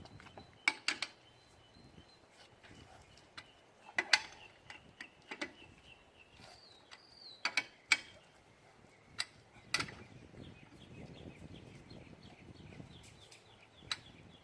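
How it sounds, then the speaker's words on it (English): A car's wheel bolts are tightened with a wrench in a star pattern after the tire is lowered to the ground: sharp metallic clicks and ticks come in scattered bursts over a quiet outdoor background. "it's time to fully tighten the bolts"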